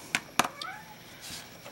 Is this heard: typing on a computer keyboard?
no